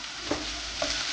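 Pork caldereta ingredients sautéing in oil, with a steady, close sizzle and two soft scrapes from stirring, and no voices.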